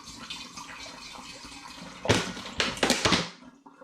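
Two litres of spring water are poured straight from a bottle into a one-gallon glass demijohn, a low trickle rising into loud, gurgling glugs that come in uneven surges before stopping.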